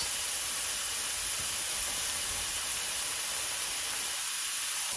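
A loud, steady sizzle fills the clip, a constant crackling hiss of a burger frying in a hot pan with no talking.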